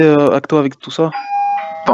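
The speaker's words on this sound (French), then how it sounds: "ton téléphone, il y a une bruit de sonnette" A phone ringing with a doorbell-like chime, a bright, sustained two-tone ding cutting in under and between a man's speech.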